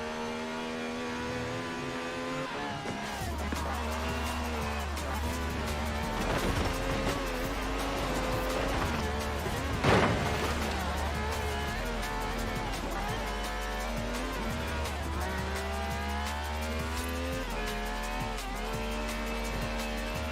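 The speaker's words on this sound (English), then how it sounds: "This has a V12 with over 750 horsepower" A V12 car engine with over 750 horsepower drives steadily, a sustained loud drone with shifting pitch and revving, under a bed of music-like tones throughout.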